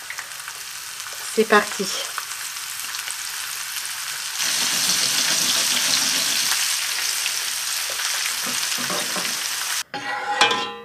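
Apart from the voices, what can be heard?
garnish roasting in a pan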